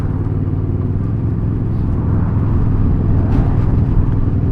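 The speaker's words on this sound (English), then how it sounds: "I can hear this this engine beautifully through these pipes, the stock pipes that is." A Royal Enfield Super Meteor 650 motorcycle engine rumbles loud and close through its stock exhaust, a steady deep throaty drone with slight shifts in pitch.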